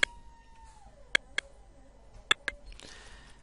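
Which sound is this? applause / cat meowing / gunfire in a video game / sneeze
cat meowing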